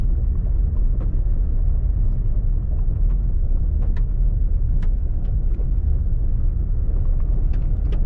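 A 2020 Toyota Tacoma TRD Sport driving over a bumpy gravel road, heard from inside as a continuous low rumble with scattered knocks and rattles from the rough surface.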